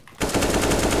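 Sustained automatic rifle spray fire in Counter-Strike: Global Offensive, a rapid continuous burst of gunshots starting abruptly after a brief quiet moment and staying loud and close to the end.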